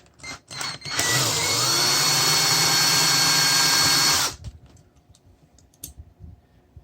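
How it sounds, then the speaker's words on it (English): A power drill whirs loudly and steadily for about three seconds, close by, driving screws on a Brainpower 48V 450/500W e-bike controller, then cuts off, leaving faint clatter and handling noises. "I couldn't find a screwdriver, so I put a drill on it."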